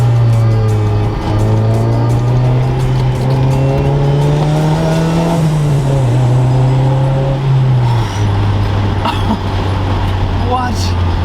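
Honda Integra on Bridgestone Potenza RE003 street performance tyres, its engine climbing loudly through revs in steady harmonic sweeps, easing off and pulling again, heard close from inside the car over a constant road roar.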